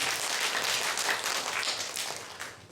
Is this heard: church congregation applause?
yes